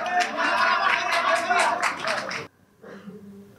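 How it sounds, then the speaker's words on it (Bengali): Loud, rapid clapping from a gathered audience at a cake-cutting celebration lasts a couple of seconds and stops abruptly, followed by a voice beginning to speak. "একটা জোরে করতালি প্রত্যাশা করছি"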